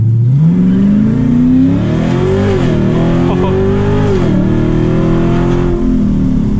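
A cammed Dodge Challenger Scat Pack launches hard from a stop, its V8 roaring as the revs climb steadily and loud throughout, with a brief dip mid-pull as it shifts, recorded from inside the car.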